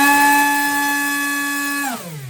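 A small RC electric motor spins a 7.5-inch three-bladed 3D-printed fixed propeller, giving a loud steady high whine with a sharp tonal edge that holds, then drops quickly in pitch as it spools down.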